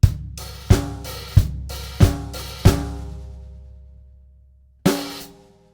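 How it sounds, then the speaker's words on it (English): Drum kit playing the last two chorus bars of a song, five loud evenly spaced crashing hits with ringing open hi-hat and snare, then a pause and one final struck accent, played solo. "Okay, so those final 2 bars of the chorus sound like this."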